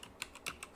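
Computer keyboard being typed on, a few quick light keystrokes spaced unevenly across a brief moment, close and clear with no talking.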